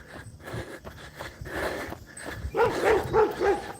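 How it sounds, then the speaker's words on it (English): A Labradoodle barks outdoors beside an electric fence, a few clear woofs of moderate loudness coming in quick succession after quieter background noise and faint movement. "That's a Labradoodle."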